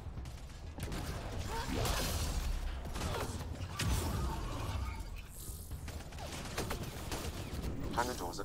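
Massive hangar doors grind shut in Mass Effect: Andromeda, a continuous loud mechanical rumble full of creaks, clanks and metallic scraping, with a calm synthetic voice announcing progress over the machinery.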